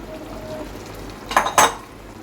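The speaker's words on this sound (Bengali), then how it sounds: "এবার পাঁচ মিনিটের জন্য আমি ঢাকা দিয়ে দিচ্ছি" A lid set onto a pot of coriander chicken with green chilies, two quick close metallic clanks in succession over a soft background simmer.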